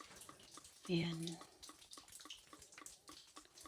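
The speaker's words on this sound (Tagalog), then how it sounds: "yung mga tubig na galing sa, sa taas, guys. Dito siya bumababa" Water trickles down from above inside the Höllengrotten cave in Baar, Switzerland, falling in a soft, steady dripping patter beneath someone speaking quietly.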